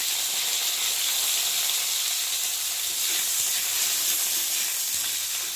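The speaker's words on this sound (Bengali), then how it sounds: "তেলের মধ্যে কেটে রাখা বেগুনগুলো একটু ভালো করে ভেজে নেব" Pieces of eggplant fry in a little oil with a steady, close sizzle and hiss that holds evenly throughout, no voices over it.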